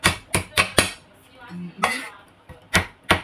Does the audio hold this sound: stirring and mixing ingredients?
yes